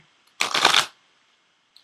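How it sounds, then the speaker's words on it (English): A deck of Ascended Masters oracle cards shuffled once, a close, crisp riffling burst lasting about half a second in an otherwise quiet room. "I am going to pull a card from the Ascended Masters deck for you as well."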